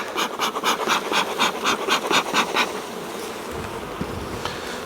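Honey bees buzzing during a hive inspection, with smoke being puffed in rhythmic bursts over a steady insect hum that continues alone afterward.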